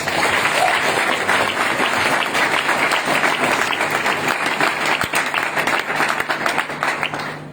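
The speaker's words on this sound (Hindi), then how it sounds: "एक बार जबरदस्त तालियां ठोको।" Crowd applause fills a training session hall: many people clapping loudly and continuously for over seven seconds, a dense, even roar of hands with no break.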